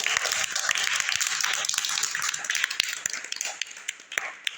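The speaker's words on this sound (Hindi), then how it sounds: "ताली बजाइए सब लोग" A group of children claps together after a story is told, with a dense, steady patter of hand claps that runs throughout and tapers slightly toward the end.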